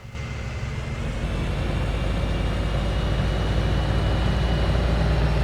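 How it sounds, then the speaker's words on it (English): A pickup truck engine strains to accelerate uphill, a steady, loud, rumbling drone that holds at one level from start to finish with no talking. "My truck is struggling so badly."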